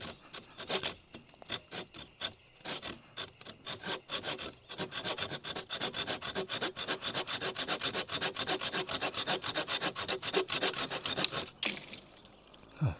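A Silky Gomboy Kuro folding hand saw cuts through a branch about an inch thick in steady, rapid back-and-forth rasping strokes. The strokes start hesitant, then settle into a fast even rhythm, close and fairly loud, and stop abruptly near the end.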